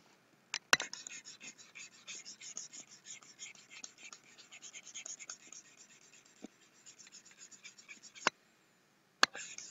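A pen scratches steadily across paper in soft, close strokes as notes are written by hand. A few sharp clicks interrupt it, and a short silence falls near the end.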